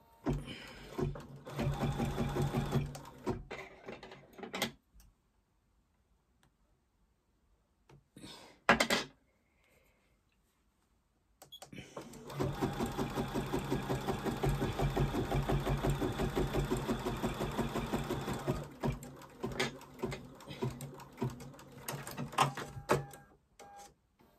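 An embroidery machine stitching a placement line in embroidery cotton, a fast rapid mechanical needle chatter running for several seconds, pausing into near silence with a brief clunk, then resuming steadily and loud.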